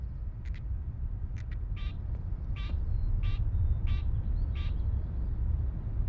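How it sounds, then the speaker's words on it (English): Birds in the Riven remake give short high chirps and whistles, spaced irregularly, moderately near over a constant low ambient rumble with no talking. "I hear the birds, but I don't see the birds."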